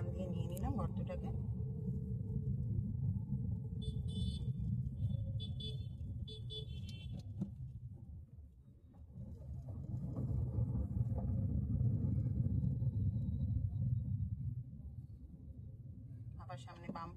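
A car driving at night on a local road, with a steady low engine and road rumble that swells midway, steady and close throughout.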